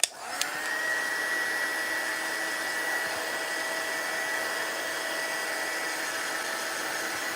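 A hair dryer runs steadily on glue smeared over a craft pot, a continuous even whoosh at close range after a short click at the start, with no talking.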